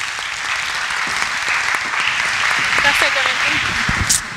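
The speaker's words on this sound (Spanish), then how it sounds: "Can you welcome Jaslene with a big applause?" Studio audience at an interview show welcoming a guest, Jaslene, with steady clapping and a few cheers, while a voice speaks over the applause toward the end.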